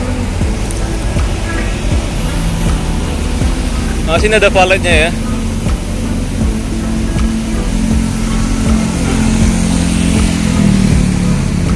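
On a busy city street in Blok M, Jakarta, steady traffic rumbles throughout and a motorcycle engine drones and revs nearby, with someone talking over the noise.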